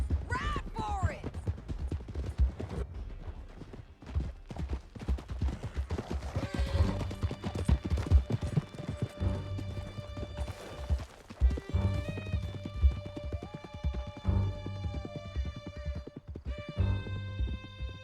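Horses galloping in Red Dead Redemption 2 during a canyon chase, steady clip-clop hoofbeats throughout with occasional whinnies, gunshots and a musical score layered over them.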